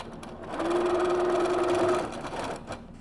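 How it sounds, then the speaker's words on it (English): A sewing machine running a short steady burst of stitching, sewing binding onto the raw edge of a fabric duffle bag. The motor whirs close and loud for about a second and a half between quieter handling noises. "And then we're gonna attach the binding to this raw edge here. So it's gonna be raw edge to raw edge, and then we're ready to sew."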